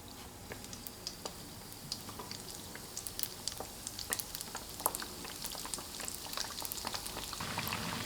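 Yeasted flour dough cakes dropped into a pot of moderately hot oil, a dense, steady bubbling crackle with scattered sharp pops and spits throughout, close and even, with no talking.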